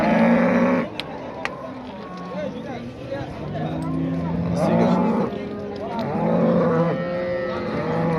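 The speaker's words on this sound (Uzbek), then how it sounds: "Mana sigirimiz." A cow at a livestock market in Samarkand's Oqdaryo Yangiqurgon lows repeatedly with long, drawn-out moos amid the steady background murmur of people talking nearby.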